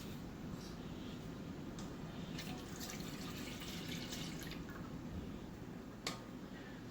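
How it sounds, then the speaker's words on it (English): Milk poured into a saucepan for homemade banana pudding, a steady liquid stream filling the pan close up, continuous and moderately quiet with a faint click near the end. "we're going to add some milk"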